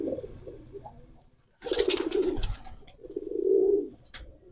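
A pigeon coos in low, rolling bursts while held in the hand, close and fairly loud, with brief pauses between the cooing phrases.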